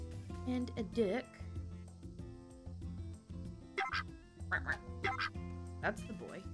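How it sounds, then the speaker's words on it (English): Several quacks from a duck in a cozy video game, a brief burst early and a run of calls later, over steady game music with someone talking. "And a duck."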